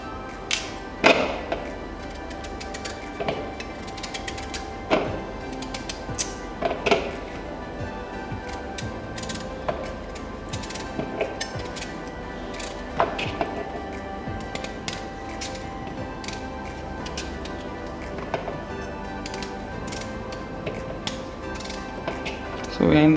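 A kitchen knife cuts sweet potatoes into even pieces on a cutting board, giving scattered sharp taps and chops at an irregular pace throughout, with a quiet room tone underneath.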